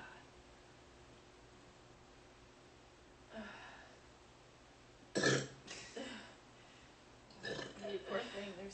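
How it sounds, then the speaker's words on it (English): A woman burps repeatedly after eating shrimp, with a few throaty eructations, one loud and close, amid quiet background and nearby voices. "So many burps."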